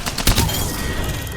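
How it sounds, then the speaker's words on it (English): Bursts of light machine gun fire from the Spitfire in the video game Apex Legends, loud and close, with a sharp peak early on and sustained gunfire texture through the rest of the short stretch. "Snuck behind them with my trusty light ammo Spitfire here."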